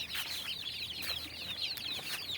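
Hens clucking steadily on a backyard farm raising native desi chickens, with overlapping calls repeating through the whole stretch at a moderate distance, no talking.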